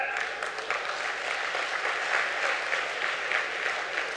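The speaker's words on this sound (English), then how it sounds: "Claps." An audience at a business conference session applauds continuously, a dense, steady burst of clapping that fills the room, loud and close, with no talk over it.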